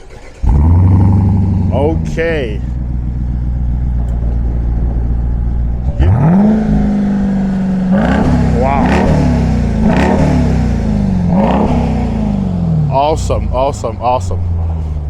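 A 2021 Dodge Durango SRT Hellcat's supercharged V8 roars and revs repeatedly, loud and close, rising and falling in several surges over a constant idle, with a person briefly exclaiming.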